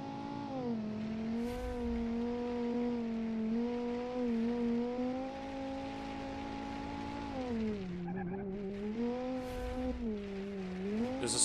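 A V10 offroad truck engine in a video game drones steadily with a strong harmonic hum, climbing and dipping in pitch as it revs and eases off, loud and close throughout.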